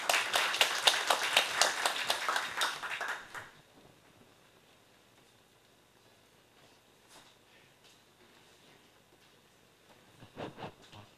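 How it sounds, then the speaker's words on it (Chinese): Brief audience applause at a COSCUP 2019 Linux technical conference talk, a burst of clapping for about three seconds that stops abruptly, followed by near silence and a faint rustle at the end. "那在这边再请俊安给一个掌声"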